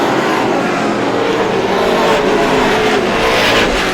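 Race cars roaring around the oval at Star Speedway during the GSPSS 100, a loud continuous engine drone with slight swells as cars pass, no voices heard.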